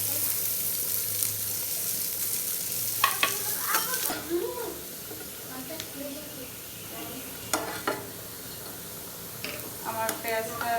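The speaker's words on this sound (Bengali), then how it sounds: "আমি এখন ডাউলের বাগারের জন্য করে নেব পেঁয়াজ, রসুন আর আস্ত মরিচ" Onion, garlic and whole chillies fry in oil for a dal tempering, giving a continuous close sizzle. Intermittent scraping stirs and clinks of a utensil break through the sizzle.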